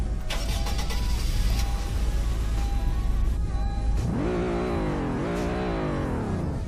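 An EPD car with EPD Black wheels in a video game, idling with a steady low rumble, then its engine revs up twice, rising and falling in pitch, loud and close.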